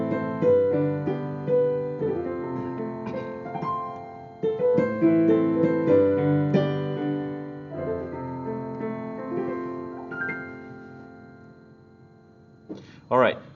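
Piano playing a short 6-5-4 walk-down chord progression, sustained chords and melodic fills ringing in a flowing, expressive phrase close up, ending with a brief faint vocal sound.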